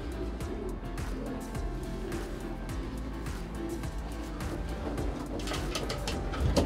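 Racing pigeons, sprinters bred for short races, cooing in a loft: soft repeated low coos over a steady background hum, continuous throughout, with some brief louder rustling near the end.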